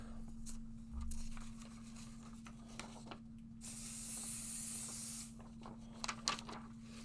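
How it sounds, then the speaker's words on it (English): A single sharp spray of pixie spray adhesive hisses for about a second and a half amid quiet handling clicks and a low steady hum. "Grab some more pixie spray."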